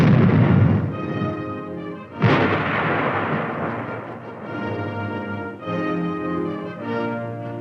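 An armored team's support weapon fires direct: two heavy, booming shots about two seconds apart, each trailing into a long rolling rumble over a droning background.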